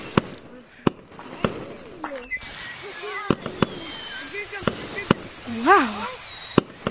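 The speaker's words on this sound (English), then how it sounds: "Look, it's fireworks." Fireworks in the video game Gorilla Tag at a beach: a string of sharp, loud pops and bangs spread irregularly across the clip, with whistling tones and voices chattering among them.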